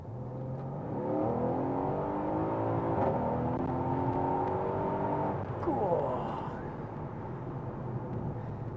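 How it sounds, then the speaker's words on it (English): A Mercedes-Benz C63 Estate with a 4.0 V8 accelerating hard from 30 mph, a loud rising engine roar climbing through gears with a shift partway through, heard from inside the car. "But if I put my foot down now, so I'm doing 30."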